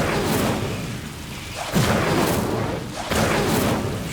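Incendio fire spell cast in the Hogwarts Legacy video game on Xbox, heard as a few dense whooshing blasts of flame that swell and roar loudly, one after another, over a steady game background.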